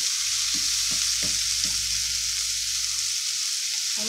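Tomato, onion and cilantro cooking in a pan give a constant, even sizzle, with a few soft stirring knocks early on.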